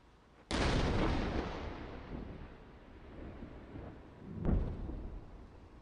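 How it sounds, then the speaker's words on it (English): A missile strike over the Tel Aviv skyline: a sudden loud booming blast with a long rumbling roll-off, then a second heavy thud a few seconds later, distant and echoing with no talk. "Now there's the missile right there."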